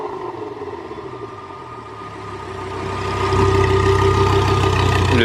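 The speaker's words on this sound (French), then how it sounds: "c'est fou quand même comment c'est reconnaissable un son de V10" A Frangivento hypercar prototype's V10 engine idles steadily, a low continuous hum that swells louder midway and holds at a strong, even drone with no talk.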